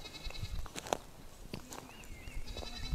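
Goats bleat several times among scattered rustling and clatter, the calls short and moderately close, with a few faint distant cries, during a nomad herd migration.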